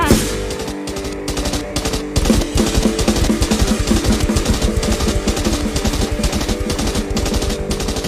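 Rapid, continuous bursts of gunfire fired into the air, a loud rattling stream of shots fired in quick succession with barely any pause.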